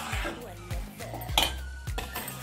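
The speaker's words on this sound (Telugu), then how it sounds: "చూడండి సర్వింగ్ బౌల్లో తీసేస్తున్నాను మనం చేసిన వంకాయ కర్రీని." Eggplant and tomato curry spooned from a pot into a serving bowl, with several soft scraping clinks of a spoon against the metal pot and bowl at an irregular rhythm, close by in a home kitchen.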